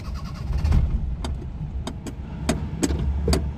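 A Maruti 800 car's self-starter cranking a stalling engine that has run low on petrol, with a low rumble broken by a series of sharp clicks and brief mechanical bursts, heard close up.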